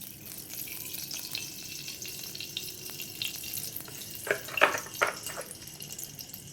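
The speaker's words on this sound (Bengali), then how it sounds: "কড়াতে তেল দেবো, দিয়ে বিরিয়ানিটা করার জন্য আমি বেরেস্তাটা ভেজে নেবো লাল লাল করে।" Sliced onions fry in hot oil in a kadai on a gas stove, browning for biryani. A steady, soft sizzle runs throughout, with a few sharper clinks of stirring near the middle.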